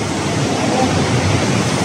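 A waterfall inside a cave river at Sótano de la Lucha in Chiapas gives off a steady, dense rushing roar that fills the space evenly, with no voices over it.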